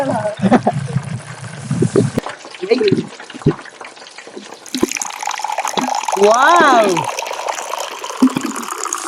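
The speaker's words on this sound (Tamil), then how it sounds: "அது தண்ணி ஊற்றி லைட்டாக தண்ணி" Water poured from a vessel into a cooking pot of chicken biryani masala with chilli powder, a gurgling, splashing pour rising midway over a sizzling pot, with voices talking around it.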